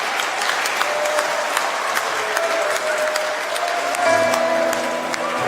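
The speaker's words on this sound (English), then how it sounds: "May I ask everyone that we give a round of applause." Church congregation applauding to welcome new members during a service, a steady, dense wash of clapping throughout with faint organ or keyboard tones underneath.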